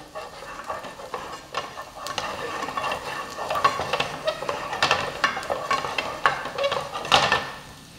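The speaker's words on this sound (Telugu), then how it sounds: "ఎండుమిర్చి వేసుకొని ఫ్రై చేసుకోండి." Dried red chillies fry in a pan for paneer majestic, a busy sizzle layered with repeated stirring scrapes and taps of a utensil against metal, growing more active toward the end.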